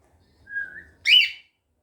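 A person whistles to a pet cockatiel: a thin, steady whistled tone, then a brighter rising whistle after a short gap, close and clear against silence.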